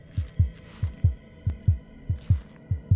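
A heartbeat pulses through a VR cave-exploration experience, about a dozen deep, evenly paced thumps in lub-dub pairs, loud and close over a faint steady hum, with no talking.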